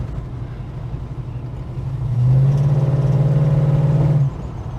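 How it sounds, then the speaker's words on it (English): A Holden HK with automatic transmission, engine idling and then rising to a louder steady run with a slight ping, close and continuous with no talk. "So there is a little bit of ping noise there"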